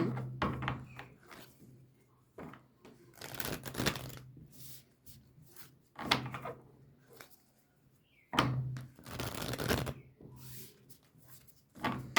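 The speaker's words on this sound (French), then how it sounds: "je vais commencer par vous tirer deux petites cartes de l'oracle de la lunologie" Oracle cards are shuffled and drawn by hand in a quiet room, with several soft bursts of rustling and flicking separated by near-silent pauses, faint and close.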